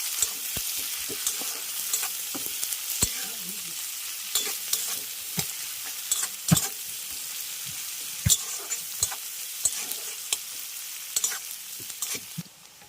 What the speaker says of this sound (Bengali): পেঁয়াজটাকে প্রথমে ভেজে নেবো ভালো করে।